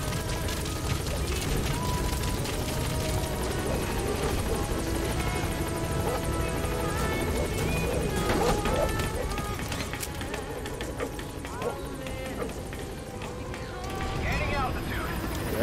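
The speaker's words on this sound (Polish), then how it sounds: "Teraz nic, tylko wsiąść do śmigłowca i stąd spadać." A helicopter in the video game Metal Gear Solid V: The Phantom Pain whirs and drones steadily for the whole stretch, a continuous rotor hum holding a fairly even level, with some game sounds layered over it.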